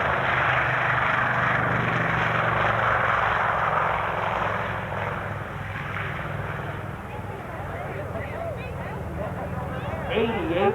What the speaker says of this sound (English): listen to the reenactment of history as the only flying B-29 in the world takes to the sky